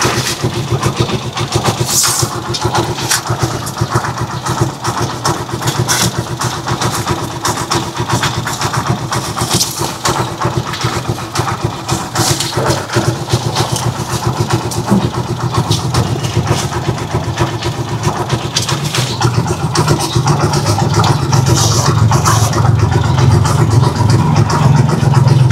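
A vehicle called a chariot, left unused for a long time in Tuguegarao, starts and keeps running with a loud, steady engine rumble close by, its idle deepening toward the end.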